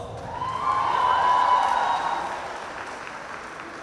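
Audience applause after a dance performance at a college dance event, a broad wash of clapping that swells to a peak mid-way and then tapers off, with a faint tonal whine running through it.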